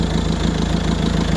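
A 2009 Peugeot 308 T7 with a 1.6 HDi DV6 diesel engine idles with a steady, close, rumbling drone that holds an even rhythmic throb.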